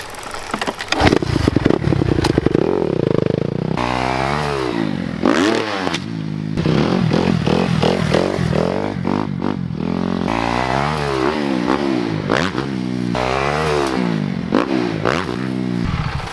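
A dirt bike in first gear rides over a foldable backyard freestyle ramp, its engine buzzing and revving up and down close by, with clattering and scraping from the ramp.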